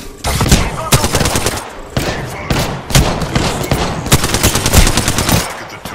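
Enemy gunfire in a shooter video game rattles in rapid automatic bursts, loud and close, with repeated volleys and brief gaps throughout.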